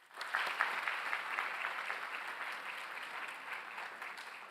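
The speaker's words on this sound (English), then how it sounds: "So let's give them a round of applause." Steady applause from an audience at an evening graduate honors ceremony, a moderately distant wash of clapping that rises quickly and holds for several seconds.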